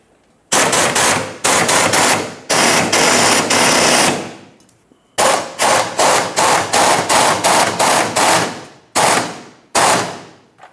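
Rapid ratcheting bursts from a tool tightening the fuel tank strap mounting nut on a 1994-2002 Dodge Ram 2500, close and loud, in a series of quick clicking runs separated by short pauses.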